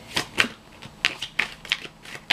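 Tarot cards being shuffled and drawn during a reading give a string of soft, crisp flicks and slaps, several quick card snaps at irregular intervals, close and fairly quiet, with no talking.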